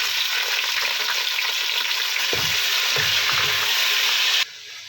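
Tomatoes and onions fry in a pan for sarson ka saag, with a loud, dense, close sizzle and a few low thumps of stirring before it cuts off abruptly near the end, no voices.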